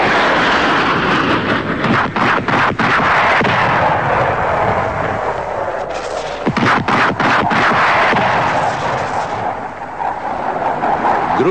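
Artillery firing from concealed positions during the large Shchit-82 military exercise in Bulgaria, a loud continuous roar punctuated by repeated sharp blasts and cracks, with heavy rumbling throughout.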